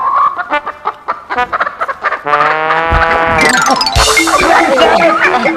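Chickens clucking loudly and close by in a comedy film scene about chicken thieves, starting with quick separate clucks, then a dense overlapping squawking cacophony as the birds grow agitated.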